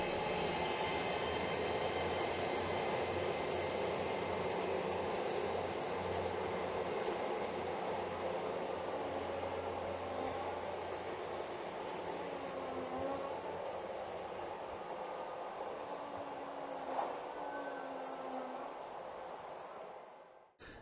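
A GWR Class 802 train runs through Hayle station heading east on a Penzance to Plymouth service. Its steady engine drone and rolling rumble last about twenty seconds, close and sustained, then fade at the end.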